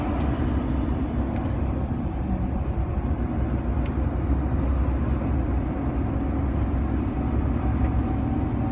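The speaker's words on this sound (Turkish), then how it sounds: "Ötüyor da ya, bunun diferansiyelde bir ses var ya." A truck cruises at speed with a differential whine, a steady drone over loud continuous engine and road rumble heard from inside the cab.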